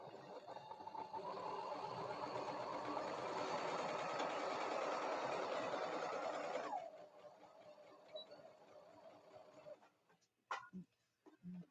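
A sewing machine stitches face masks and a tutu, humming at steady speed for several seconds, then slowing to quieter, uneven stitching before a few faint clicks and knocks.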